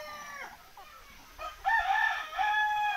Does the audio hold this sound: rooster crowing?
yes